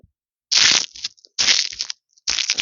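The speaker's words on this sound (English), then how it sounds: "This is what the control cereal sounds like." Three loud bursts of crunching, like dry cereal being chewed close to the ear, separated by short silences.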